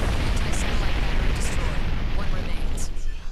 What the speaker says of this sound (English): Those cannons are pretty accurate too